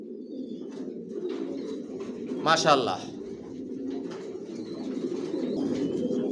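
Johnson long-distance racing pigeons cooing in a loft, soft low repeated coos filling the background while someone briefly speaks over them, with a short brighter call in the middle.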